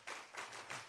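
Three sharp hand claps in a quick chanting rhythm, close and fairly quiet, mimicking a wrestling crowd's clap-along Undertaker chant.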